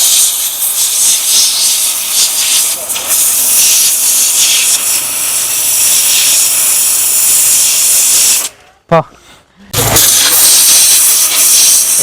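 A high-pressure water washer jet blasts against a brick with a loud, steady roaring hiss that runs on and on, broken once by a short stop near the end before it surges back.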